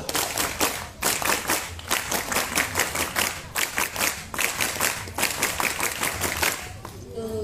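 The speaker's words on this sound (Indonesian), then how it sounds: "sebelum kakak mengakhiri, kita 2 kali tepuk pramuka" A scout group performs the Pramuka rhythmic clap twice in a row, crisp patterned bursts of many hands with a short pause between rounds, with voices audible alongside.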